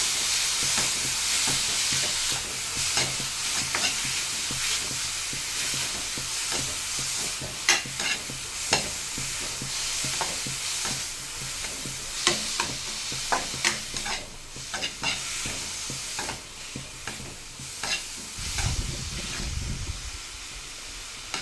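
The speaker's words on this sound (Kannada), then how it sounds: "ಸೋರೆಕಾಯಿ ಏನು ಕಟ್ ಮಾಡಿ ಇಟ್ಕೊಂಡಿದ್ದೀನಿ ಅದನ್ನ ಸ್ವಲ್ಪ ಹಸಿ ವಾಸನೆ ಹೋಗೋ ತನಕ ಸ್ವಲ್ಪ ಫ್ರೈ ಮಾಡ್ಕೊಳ್ಳೋಣ ಇದನ್ನು" Chopped bottle gourd fries in a pan for a sweet payasam, giving a steady sizzling hiss with repeated scraping stir strokes throughout and a low rumble near the end, with no talking.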